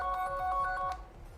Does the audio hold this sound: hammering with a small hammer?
no